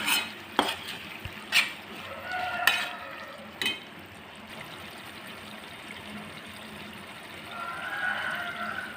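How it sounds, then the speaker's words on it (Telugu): Stirring of ginger garlic paste through frying onions in a pan, with a few sharp scraping clatters early on and a soft steady sizzle underneath, no talking. "అల్లం వెల్లిపాయ పేస్ట్ అండి స్పూనుడు వేసుకుని ఒకసారి కలుపుకుందాం"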